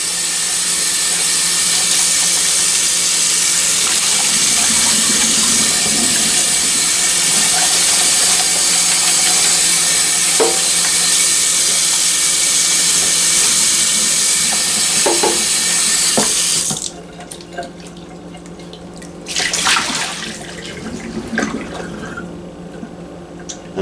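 Dandelion flowers rinsed under a running kitchen tap, a steady loud rush of water for about seventeen seconds before it cuts off, followed by quieter splashes and brief bursts of flow.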